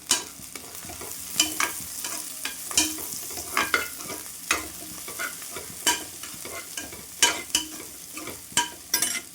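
Green chillies and curry leaves sauté in hot oil for a mutton kulambu, with steady sizzling and repeated stirring scrapes that pulse every second or so, close and fairly loud, no talking.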